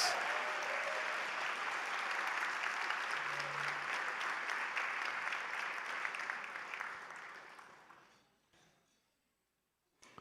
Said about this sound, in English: So give them a loud round of applause